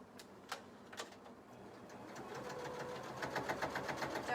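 A sewing machine runs a stitch line on a petticoat, starting with a few separate clicks and then building into a faint, steady whirring run of stitching.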